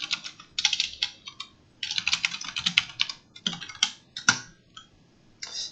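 Someone types a search query on a computer keyboard, producing bursts of close, crisp key clicks in an uneven rhythm with brief pauses between words.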